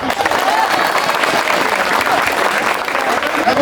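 A crowd at a football tournament final and prize-giving ceremony applauds the winning team, a steady, dense burst of clapping that fills the whole moment with no pauses.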